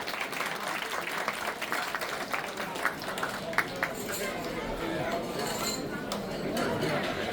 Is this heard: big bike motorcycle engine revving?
no